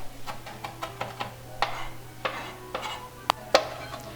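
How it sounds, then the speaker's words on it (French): A knife chops parsley on a board in quick, irregular taps over a steady low kitchen hum, with a few sharper clicks near the end. "On va hacher le persil au couteau."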